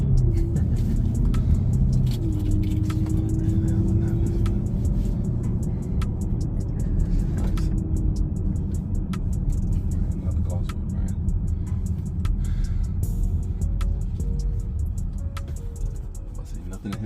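A 2024 BMW X7 M60i with a 4.4-litre V8 in comfort mode emits a low, steady engine growl heard from inside the cabin, a continuous rumble with a brief rising tone early on, while occupants talk over it.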